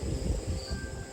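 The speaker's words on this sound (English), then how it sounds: "all I can hear is the crickets." Crickets chirp in a soft, steady, continuous trill, with faint low rustling beneath and no other sound.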